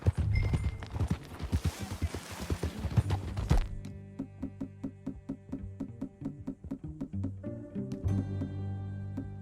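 Horse hooves clip-clop in a steady rhythm during a ride in Red Dead Redemption 2, first under a dense wash of noise, then clear and evenly spaced over music.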